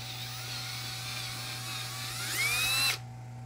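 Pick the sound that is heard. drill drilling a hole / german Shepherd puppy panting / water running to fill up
drill drilling a hole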